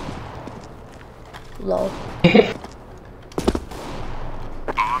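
Gunshots in the CS:GO video game sound as a few scattered, fairly distant bursts over background game ambience, with a brief word spoken.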